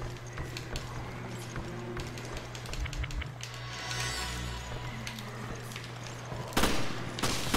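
Gunfire in the survival horror game Resident Evil Revelations, a run of quick, fairly soft shots over a steady hum, ending with a louder, sharper blast near the close.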